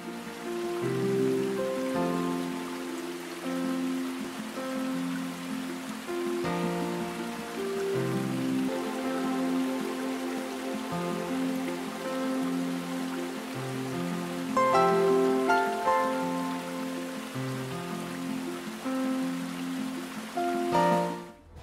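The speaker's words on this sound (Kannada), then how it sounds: "ದಕ್ಷಿಣ ಕನ್ನಡ ಜಿಲ್ಲೆಯಲ್ಲಿ ಮಳೆಯ ಆರ್ಭಟ ಜಾಸ್ತಿಯಾಗಿದೆ" Heavy monsoon rain falls in Karnataka, a steady hiss of drops on surfaces running throughout beneath a melodic musical backing, with no speech.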